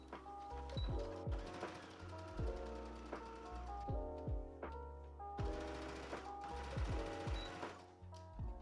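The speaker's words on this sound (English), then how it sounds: "But now I'm just going to stitch this." A sewing machine runs continuously while stitching a casing on a sundress, with a rhythmic mechanical chatter and repeated thunks throughout, close and at moderate level.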